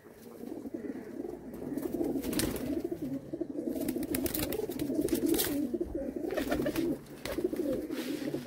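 Pigeons kept for sale at a loft coo steadily over a busy, slightly noisy background, with occasional flutters of wings throughout.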